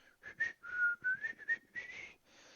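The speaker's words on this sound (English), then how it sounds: "And start whistling." A person whistles a short, wavering tune of several notes, close and alone, faint and clear without other sounds.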